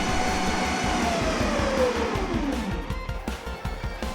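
A large Hot Wheels remote-controlled drone racer car with brushless motors drives around a car park, its motor whine rising and falling under steady rolling noise, loud and near.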